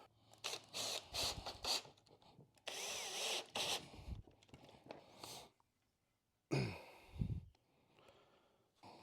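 A power drill drives 3-inch deck screws into a wooden workbench beam in several short whirring bursts separated by pauses, close and fairly quiet, with no talking.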